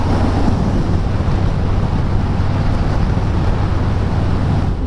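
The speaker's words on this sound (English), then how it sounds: "I got the wind blast of having no windshield on this thing" Strong wind blast buffeting a rider on a motorcycle with no windshield, a loud continuous roaring rush that fills the sound without a break and without speech.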